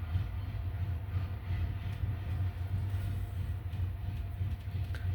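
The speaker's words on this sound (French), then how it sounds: "On a entendu le train." A train passes at a distance, a steady low rumble with faint rail clatter running evenly throughout, with no voices over it.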